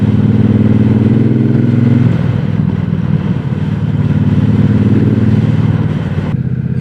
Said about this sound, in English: the Hitchcock slip-ons is I think it's a really popular exhaust for these